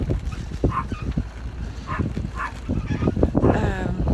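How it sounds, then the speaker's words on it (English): Dogs aboard a rocking Seawind sailing catamaran bark in short, scattered yelps over a rumbling, wind-buffeted background, with a few brief whimpers between the barks. "it's just annoying to hear their barks."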